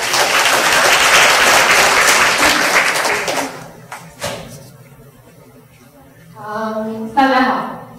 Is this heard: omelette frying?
no